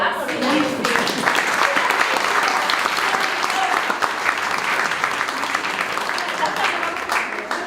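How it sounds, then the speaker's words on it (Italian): Concert audience applauding steadily throughout a rehearsal of its own applause, a dense even wash of clapping with brief talk at the start. "Dobbiamo provare anche l'applauso."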